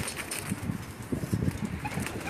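Teddy pigeons coo softly in a low, murmuring burble at close range, with a faint rustle behind and no talking.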